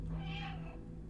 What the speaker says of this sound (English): I've just figured out how to meow and to set my cats off